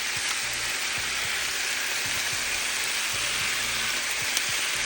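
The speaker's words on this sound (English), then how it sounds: "Nothing like fried potatoes and onions." Potatoes and onions fry steadily in a pan, a continuous close hiss and crackle with faint low thumps beneath and no talking.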